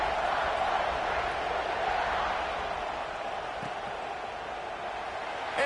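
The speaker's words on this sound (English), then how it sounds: "this crowd is buzzing after that last score" A football stadium crowd buzzing after a score, a steady dense roar of many voices at constant loudness, with a commentator speaking over it.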